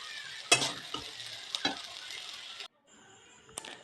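Basanti pulao, a sweet Bengali rice dish, sizzles in a pan as it is gently stirred and fried, with a steady hiss broken by several clear scrapes and clinks of the spoon, then a brief pause before one last stir.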